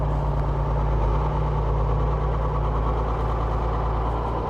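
A heavy diesel tractor engine idles steadily nearby after a cold start, a constant low, throbbing rumble with no change in pace.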